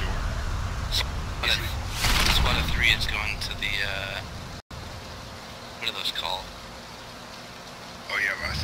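Rain in the video game PlayerUnknown's Battlegrounds hisses beneath a busy mix of mechanical clatter and bursts of distant gunfire-like noise, with a brief dropout midway.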